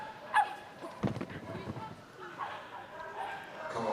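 A small 10-year-old agility dog named Fuse gives a few sharp yips and barks at the Crufts Singles jumping competition, heard over steady arena crowd noise and commentary.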